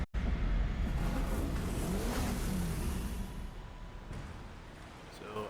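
A car engine hums and revs steadily while driving in Burnout Paradise Remastered, then fades slightly near the end, with someone talking over it.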